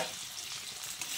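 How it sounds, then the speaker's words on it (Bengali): Potatoes frying in a pan and being stirred, a steady close sizzle with a soft scraping stir throughout a brief moment and no talking. "আলুটাকে একটু লালচে করে ভেজে নিতে হবে"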